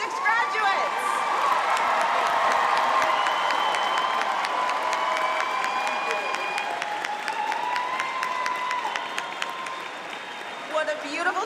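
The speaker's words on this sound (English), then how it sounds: "let's get a round of applause for our 2026 graduates" A large crowd at a graduation ceremony applauds and cheers steadily for the graduates, with scattered whoops, sustained throughout from some distance.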